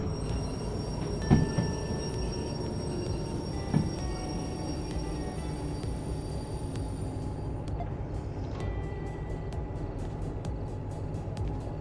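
Locomotive in the Derail Valley train simulator game rolling along, a continuous low rumble of wheels and engine with a couple of clanks early on and faint rhythmic ticking later, no voices.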